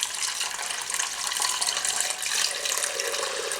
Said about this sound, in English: I just want to pour a little bit more liquid in there